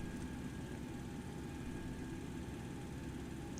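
Engine number 1 of a Boeing 727 spooling up during start in the X-Plane 11 flight simulator, a faint, steady turbine hum and whine with a low rumble underneath that holds even throughout.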